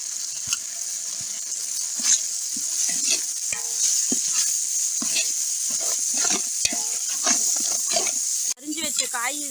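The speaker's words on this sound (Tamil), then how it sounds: "வச்ச காய் இதிலே போட்டு வதக்கிறேன்" Beans and carrots sauté with spices in a pan for vegetable biryani, giving a continuous sizzle broken by repeated scraping stirs, with a voice talking intermittently over the cooking.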